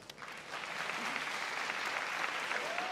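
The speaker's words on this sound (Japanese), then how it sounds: "今一度盛大な拍手をお送りください。" Steady applause from an audience at a kickboxing fight event, a dense wash of clapping that swells in the first half second and holds evenly after, fairly distant and moderate in level.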